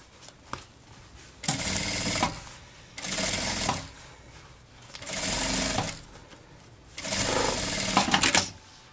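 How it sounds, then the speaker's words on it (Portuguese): A sewing machine runs a safety seam on a bag in four loud, steady bursts of rapid stitching, each lasting about a second, separated by short pauses. No one speaks. "Vamos passar uma costura de segurança."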